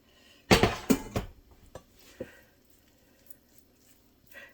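Glass 9 by 13 casserole dish for shepherd's pie set down and handled: a cluster of sharp clattering knocks, then a few fainter taps and clinks trailing off into quiet.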